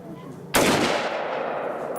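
A single loud rifle shot cracks at a Tannerite target outdoors, followed by a long booming echo that rolls away and fades over the next second and a half.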